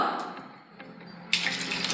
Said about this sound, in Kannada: 2 ತಿಂಗಳಾದ್ಮೇಲೆ ನಾನು ಇವಾಗ ನೀರನ್ನು ಹಾಕ್ತಾ ಇದ್ದೀನಿ.